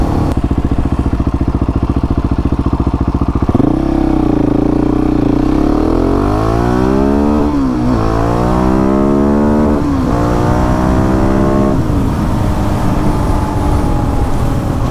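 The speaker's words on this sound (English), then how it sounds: "For a single cylinder dual sport, it moves out really well." A Husqvarna 701 Enduro single-cylinder dual-sport motorcycle fitted with an aftermarket exhaust, Power Commander and larger rear sprocket pulls hard, loud and close, its engine note climbing in repeated rising sweeps through the gears.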